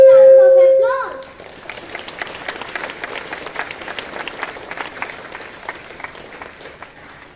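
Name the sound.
round of applause at school assembly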